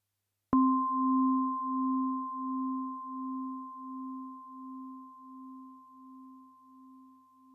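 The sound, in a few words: metallic FM synthesizer tone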